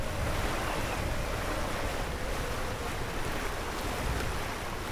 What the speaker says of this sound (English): Getting a little overpowered here. The wind just picked up to about 26 knots.